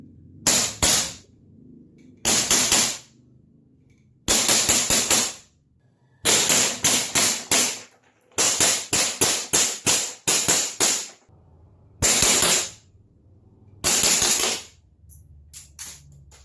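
A toy pistol with a metal frame and slide fires in rapid bursts of sharp clicking snaps, several rounds per burst separated by short pauses, close and crisp.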